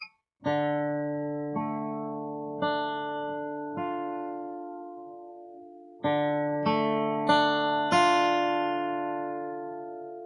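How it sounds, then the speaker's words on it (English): Guitar strings plucked one at a time, each note ringing out and sustaining before the next, a slow even sequence with a short pause midway. "pick out each string individually to make sure that you're not getting any dead sound"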